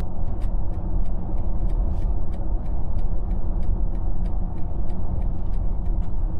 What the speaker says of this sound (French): on entend juste la voiture rouler